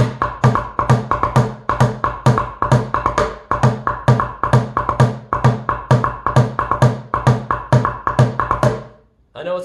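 Fast bucket drumming pattern, rhythm number seven of a caterpillar-style lesson, with dense repeated hits in a steady driving groove, loud and close, ending abruptly.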